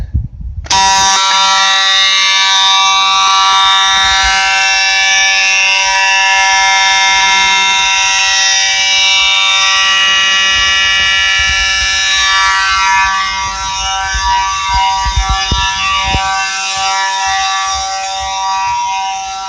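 A Simplex 4903-9219 fire alarm horn strobe blares continuously, loud and harsh, a steady buzzing tone that persists for many seconds with faint background noise beneath.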